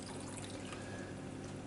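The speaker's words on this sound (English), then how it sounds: "We're gonna put the water over there" Water poured over sugar in a bowl while making Italian meringue, a steady, continuous splashing pour with no pauses throughout.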